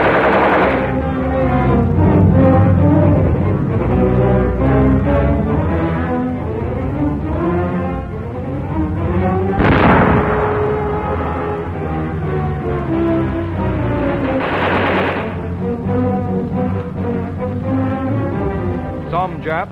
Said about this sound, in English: have to be blasted out with grenades, with gasoline, with dynamite and flame.